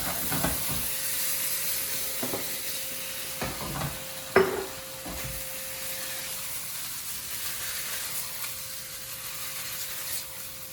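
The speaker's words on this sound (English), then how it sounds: "now we're going to put in our tomato sauce" Tomato sauce hisses and sizzles as it goes into a hot open stew pot for a coconut curry chickpea stew, a steady frying hiss with a few stirring clinks and one sharp knock near the middle.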